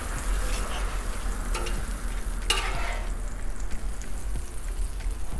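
Oil sizzles and crackles on a hot Blackstone griddle while it is spread across the cooking surface, a steady frying hiss with a few brief scraping stirs.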